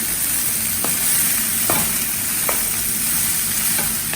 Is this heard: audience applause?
no